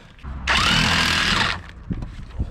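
An impact wrench spins a nut off the suspension of a Mk3 Golf during a coilover install, one loud sustained burst of about a second, followed by light clanks of tools and parts.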